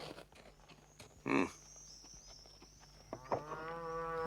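A cow on a farm lets out two moos, a short muffled low call followed by a louder, drawn-out tonal moo, over quiet rural ambience.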